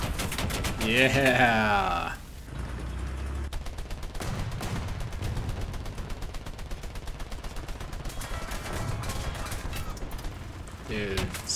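Tank gunfire in War Thunder: bursts of rapid machine-gun fire with mechanical clatter run through most of the stretch, with a voice speaking briefly at the start.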